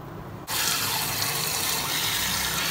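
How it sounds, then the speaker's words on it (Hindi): Tap water gushes into a cooking pot while homemade Persian cat food is made. It begins abruptly after a brief quiet moment, then runs as a loud, steady splashing stream to the end. "अभी इसके अंदर पानी डालते हैं"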